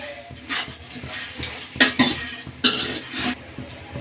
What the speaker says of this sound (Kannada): ಹಸಿ ವಾಸನೆ ಹೋಗೋ ತನಕ ಈ ಇತ್ಕವರೆನ ಹುರ್ಕೊಳ್ಳೋಣ